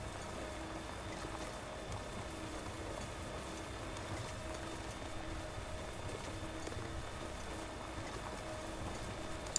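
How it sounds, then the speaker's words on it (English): Steady rain falls in the video game Death Stranding, a soft continuous hiss with faint patter on a mountain hike near a river, quiet and unbroken for several seconds with no talk. "Less pretty rain."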